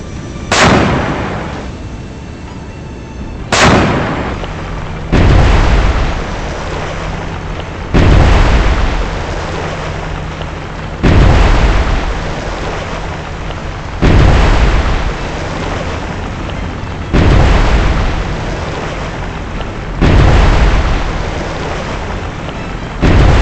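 Vertical launch system missile launches and explosions in the submarine and surface combat game Cold Waters, a series of about seven heavy, booming blasts roughly every three seconds, each with a sharp onset and a rumbling roar fading between.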